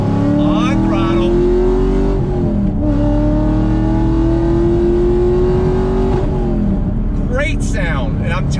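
A Chevrolet Camaro SS 1LE with Brembo brakes and a manual shifter pulls hard under throttle. The engine note is loud and close, climbing steadily in pitch and dipping twice at gear changes.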